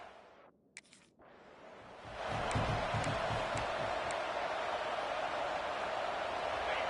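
Stadium crowd at a Gators college football game in NCAA 26, starting as a low murmur, dipping briefly, then swelling after two seconds into a loud, sustained roar with rhythmic chanting that holds to the end.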